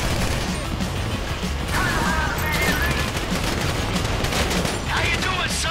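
Gunfire erupts during a bank heist shootout in GTA 5, with continuous rapid bursts of shots and clattering impacts. Voices talk over the steady barrage.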